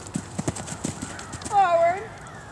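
Horse hooves clip-clop at a riding jump lesson, rhythmic footfalls at moderate distance followed by a clear neigh, with an instructor's voice calling out around them.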